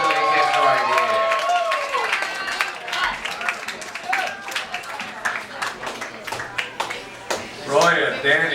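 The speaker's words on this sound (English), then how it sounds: "Keep clapping till he gets right here." Audience applause fills a poetry open-mic anniversary show in New York, with clapping and cheering mixed under voices and shouts, fading and then flaring up again near the end.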